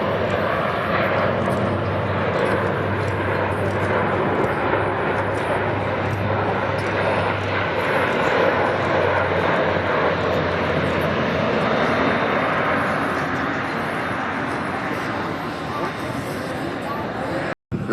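An Airbus A400M military transport aircraft flies past at an airshow, its turboprop engines giving a sustained loud roar that holds steady before cutting off at the end.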